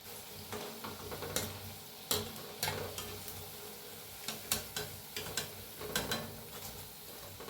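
Bhaji fritters for kadhi frying in hot oil, giving a steady close sizzle with irregular light clinks and scrapes from a slotted spoon turning them, and no voices.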